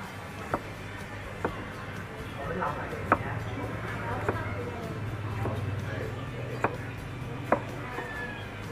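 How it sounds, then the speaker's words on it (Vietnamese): A knife taps a cutting board at slow, even intervals while ginger is cut into thin slices and then strips, with sharp single knocks over a low steady kitchen hum. "Gừng sắc lát mỏng, sau đó mình sắc sợi"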